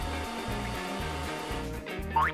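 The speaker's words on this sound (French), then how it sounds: "se coiffe avec un sèche-cheveux" A hair dryer blows steadily with a whirring motor hum that pulses slightly, close and fairly loud, before a brief higher whine at the end.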